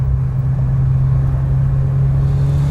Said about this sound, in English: I'm actually really surprised with the stock exhaust as well. It's definitely bassy enough.